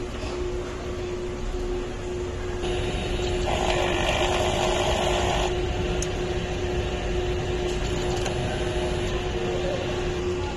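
A smart printing machine runs a printer head cleaning cycle: a steady mechanical hum and whir with a constant tone, plus brief bursts of motor noise midway and a few clicks, with no talk.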